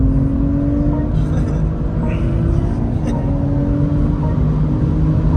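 BMW M340i pulling hard after a bump in comfort mode, a steady loud engine drone with a rising tone and dense low rumble, continuous throughout with no talk.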